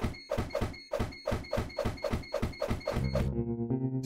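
Hammer prying something open in Lakeview Cabin 2, a rapid series of about a dozen sharp, evenly spaced thunks, close and loud, ending in a short musical chime.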